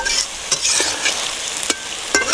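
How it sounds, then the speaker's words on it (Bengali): Peas and cauliflower are stirred with spices in a pan for a cauliflower roast, giving steady sizzling with a few sharp scrapes of the spoon against the pan, close and alone. "মটরশুঁটি ফুলকপি সব দিয়ে মশলার সাথে একটু ভালোভাবে মিক্স করে দেবো"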